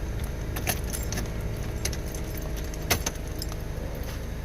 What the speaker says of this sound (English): Need to place the key in the ignition cylinder.